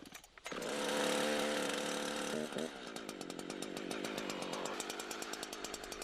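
A chainsaw revs loudly up close, then bites into a tree trunk, settling into a steady cutting whine with rhythmic pulsing as the chain works through the wood.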